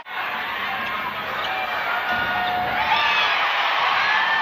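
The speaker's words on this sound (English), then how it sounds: "The crowd actually does go wild." A basketball arena crowd roars and cheers continuously at a WNBA game between the Las Vegas Aces and Phoenix Mercury, a dense, sustained wash of noise that swells slightly toward the end.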